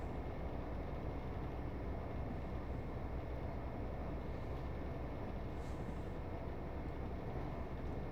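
Local passenger train on the Great Western Main Line between Oxford and Reading, heard as a faint, steady broadband running rumble with no talk.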